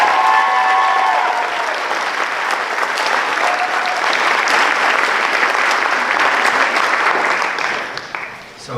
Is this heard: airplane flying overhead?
no